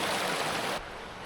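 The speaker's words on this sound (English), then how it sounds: "let's continue on down the river and head towards the falls" A river flows near Ocqueoc Falls in Michigan's lower peninsula in autumn, a steady broadband rush of moving water that drops slightly in loudness partway through and continues on its own.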